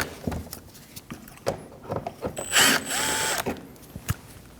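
A power tool whirs in short bursts while backing T25 screws out of a Volkswagen Passat bumper, with ratcheting clicks and light knocks close by and one longer driven whine in the middle.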